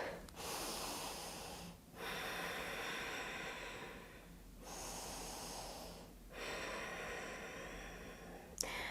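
Slow, even breaths in and out through the nose during a gentle beginners' yoga session, four long breath cycles separated by short pauses, close and fairly quiet with no talking.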